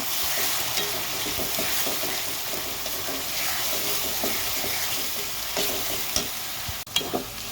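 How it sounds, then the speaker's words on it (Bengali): Onion paste fries in a hot pan on a home stove while being stirred, a steady dense sizzle with scraping and clinking of the spoon, growing a little busier near the end. "পেঁয়াজ বাটাটা দিয়ে আমি 1-2 মিনিট নেড়ে চেড়ে নিব।"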